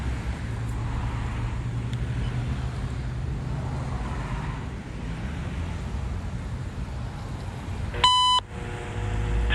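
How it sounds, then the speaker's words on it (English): A quick electronic beep from a CN railway defect detector radio sounds once over the steady low rumble of a passing train, followed by a faint tone. "it's defect detector time"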